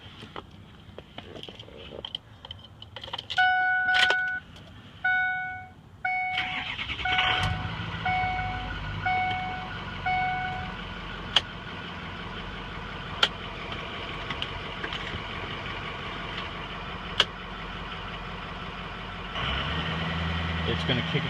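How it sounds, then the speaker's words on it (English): A Ford F-250 pickup engine cranks and catches after a series of warning chimes, then settles into a steady idle with occasional clicks. "So now when we start the truck,"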